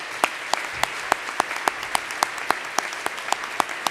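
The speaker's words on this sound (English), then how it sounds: "Can we give them a great round of applause for their support?" An audience at a regional chamber of commerce awards event claps. Evenly spaced, crisp claps fall about three or four times a second at moderate loudness over a faint room background, with no voices.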